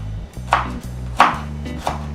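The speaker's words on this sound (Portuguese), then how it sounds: "A cebola está picada, vamos fazer o mesmo aos alhos." Garlic chopped with a knife on a board, three distinct close knife strikes about two-thirds of a second apart over a faint low hum.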